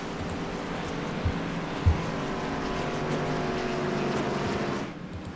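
Race cars pacing behind the pace car at Talladega give a steady, continuous engine drone with a couple of brief thumps, holding level before dropping off near the end, with no talk.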